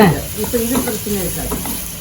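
Food sizzles and hisses steadily in a hot pan while a spoon stirs and scrapes now and then, close and continuous.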